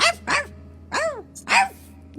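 A dog barks four times in a loose rhythm, sharp and fairly close, each bark rising and falling in pitch with short pauses between.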